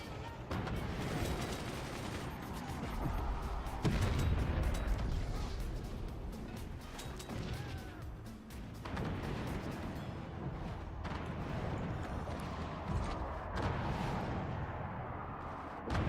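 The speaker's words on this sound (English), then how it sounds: "There's a howitzer" Howitzer artillery fires in the strategy game Forts amid a dense, continuous barrage of booming shots and rumbling impacts, with heavy low-end blasts layered over other weapon fire throughout.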